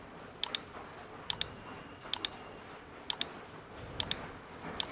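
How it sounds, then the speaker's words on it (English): Mouse clicks in Photoshop come in quick pairs at a steady pace, four or five crisp double clicks close to the microphone over quiet room hiss. "And now clicking on play button"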